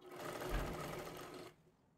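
A sewing machine runs a single steady stitching burst on fabric, close and continuous for about a second and a half before stopping abruptly.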